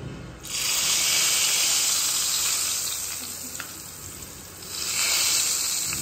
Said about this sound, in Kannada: ಮಾವಿನಕಾಯಿ ಉಪ್ಪಿನಕಾಯಿಗೆ ಒಂದು ಸ್ವಲ್ಪ ಒಗ್ಗರಣೆ